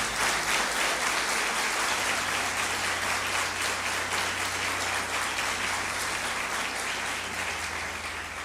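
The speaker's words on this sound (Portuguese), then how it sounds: "Vamos aplaudir ao Senhor Jesus Cristo." Church congregation applauding during a Portuguese-language worship service, a dense, steady wash of clapping from many hands that fills the room and tapers slightly near the end, with no talking over it.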